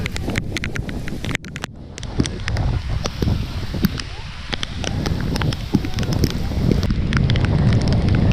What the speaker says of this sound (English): This is an unexpected rain.